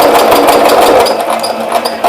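Sewing machine running continuously while stitching fabric during a tailoring lesson, a steady close mechanical whir with no talk over it.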